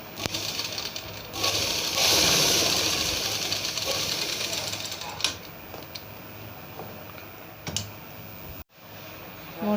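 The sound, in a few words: sewing machine stitching the shoulder seam of baby night suit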